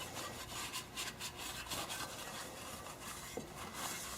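Rag scrubbing a Kohler Courage engine valve cover with brake cleaner, a steady close rubbing and wiping sound in repeated strokes, with no talking.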